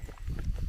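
A herd of cows walks past close by on a farm track along the Coast to Coast route, a dense shuffle of heavy hoof thuds and clopping with no talk.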